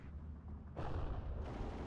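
A Pak 38 anti-tank gun fires in the World War II strategy game Steel Division 2, a deep booming blast with rumbling echo and a second swell of noise.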